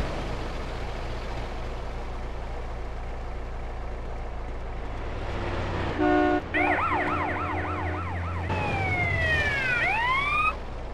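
Police car siren in GTA San Andreas, wailing and yelping in rising and falling sweeps over a low engine rumble, loud and close, with no speech.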